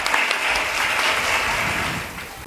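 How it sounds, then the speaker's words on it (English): Steady applause from a school audience at a family talent show for pre-primary students and their parents, dense and even throughout with no voices standing out. "Can we have a big round of applause for them?"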